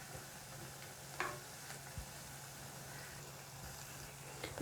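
Rava snacks frying in hot oil as they are turned, giving a faint, steady sizzle with a few soft utensil clicks and no talking.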